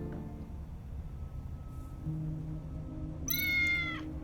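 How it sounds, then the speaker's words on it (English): A cat meows once in the video game Tales of the Neon Sea, a clear, fairly loud, drawn-out call near the end over a steady low game soundtrack. "Meow, meow, meow."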